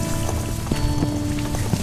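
Heavy rain pattering hard on a surface close by, with dense drops, occasional louder splats and a faint steady tonal hum underneath, continuous and without voices.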